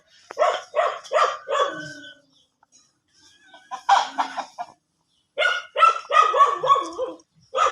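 Several dog barks come in short bursts, loud and close, with pauses between groups of barks.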